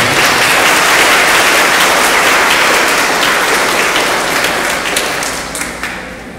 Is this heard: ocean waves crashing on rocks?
no